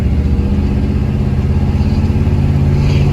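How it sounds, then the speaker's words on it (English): A 1971 Chevelle's 350 V8 rumbles steadily on a cruise, a loud, continuous low engine drone with no change in pace. "This 350 sounds excellent."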